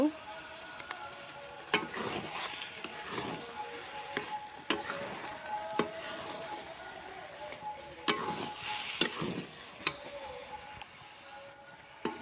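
Dry khichdi of rice and lentils sizzling in a pan after cumin powder goes in, a steady frying crackle broken by sharp scraping clicks of a spoon.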